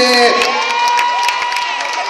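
A crowd at a celebrity appearance for James Reid and Nadine Lustre cheers and screams loudly, high excited voices and shrieks filling the space with scattered clapping underneath.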